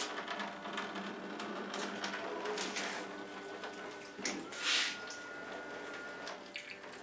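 A small pump runs, pushing a modest stream of water for washing parts, giving a soft steady trickle and splash with a faint mechanical buzz, close and quiet without speech.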